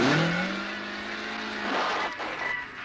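A car in a repair shop has its engine revved hard as the throttle opens, a loud close roar that falls off slightly, then climbs again in pitch near the end, with no talking.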